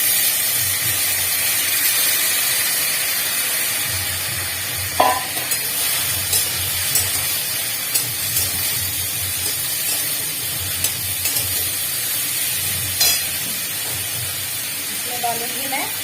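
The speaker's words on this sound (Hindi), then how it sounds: "बस इसको मैं छौंक दूंगी।" Chopped potato and pointed gourd hit hot oil with ginger in a pan and sizzle loudly. A dense, steady hiss and crackle runs throughout, with occasional stirring clicks.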